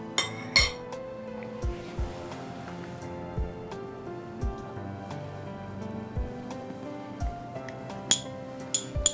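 A metal spoon clinks repeatedly against a bowl while saffron colour is mixed for jalebi, giving irregular bright taps and rattles over a quiet kitchen background.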